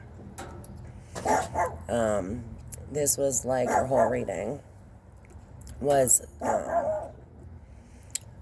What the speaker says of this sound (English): we have an interruption with the yappy neighbor dog